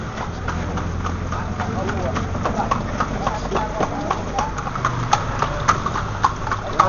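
Hooves of a horse pulling a kalesa clip-clop in a steady, even rhythm on pavement, close and clear, with an engine humming in the background and people talking over it.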